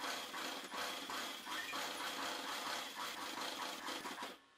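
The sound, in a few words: sewing machine stitching along kameez fabric edge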